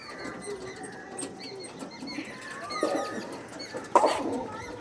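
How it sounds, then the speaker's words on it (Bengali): Pigeons in a loft, soft low cooing calls near and far with rustling and a louder bird call near the end, no talking. "এগুলো কিন্তু প্রত্যেকটা বাইরের পায়রা"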